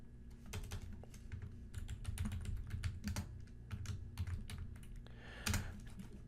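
Keys clatter steadily on a computer keyboard as a folder name is typed, a fast irregular run of close, crisp clicks with brief pauses and no talking.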